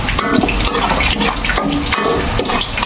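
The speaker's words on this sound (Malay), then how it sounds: "Masukkan air sebab dia nak masak lama sikit, nak bagi dia betul-betul masak." Water poured into a pan of tilapia cooking in a sweet soy-seasoned sauce, a loud, close, continuous rushing pour lasting a few seconds with no talking.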